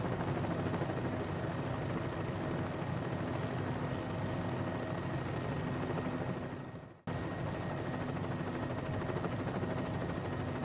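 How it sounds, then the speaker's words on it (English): Helicopter rotors beat in Microsoft Flight Simulator, a steady, dense chop that cuts out abruptly for a moment near the end before resuming, with no voices. "We are now flying over the spot where the helicopter crashed."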